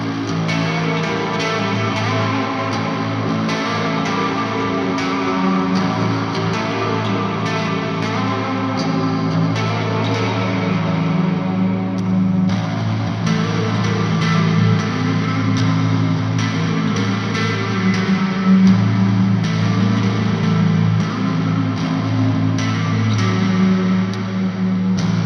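A heavily distorted metal tone from an electric guitar fitted with EMG 81 active pickups, with sustained chords and riffs played steadily, thick and saturated with effects and slight echo.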